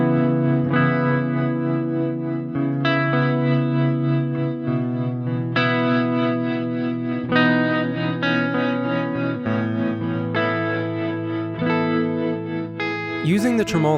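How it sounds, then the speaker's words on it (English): An Old Blood Noise Endeavors Procession reverb pedal in tremolo mode with depth at maximum gives a sustained, effect-laden guitar tone that pulses choppily across a shifting chord sequence, ending in a swirling, warbling tail. "Using the Tremolo mode with the depth turned all the way up can give you very rhythmic and percussive sounds."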